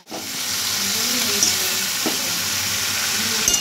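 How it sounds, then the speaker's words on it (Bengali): Crabs fry in a thick spice masala, giving a loud, steady sizzle with hissing steam and the occasional scrape of stirring close up. "কাঁকড়াগুলো দিয়ে দিই। ভালো করে মশলার মধ্যে কষিয়ে নেব।"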